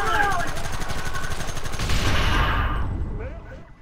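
In the Red Dead Redemption video game, a machine gun fires loud, rapid sustained bursts that rattle continuously for several seconds before tailing off into echo.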